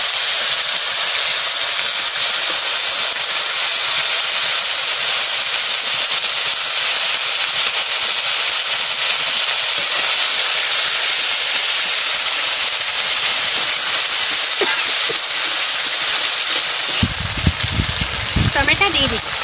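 Whole cumin, bay leaves and spices hit hot oil in a pan for fish biryani, producing a loud continuous hiss that runs almost unbroken before clattering near the end.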